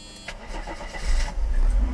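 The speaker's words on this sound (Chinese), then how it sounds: "大哥发动引擎了" A warm Mercedes R129 300SL roadster fires up: a brief starter crank, then the engine catches and settles into a loud, steady low rumble close by.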